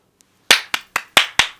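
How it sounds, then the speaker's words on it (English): A single person claps about five times in quick, even succession, each clap sharp and close, with silence before the first. "Round of applause, please."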